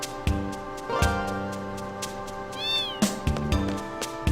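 Cat meowing in Final Fantasy VIII: one clear meow amid plucked, chiming game music with sharp rhythmic accents, close and prominent, no speech.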